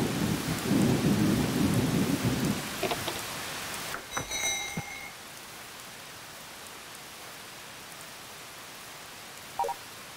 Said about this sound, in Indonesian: Meskipun badai menghadang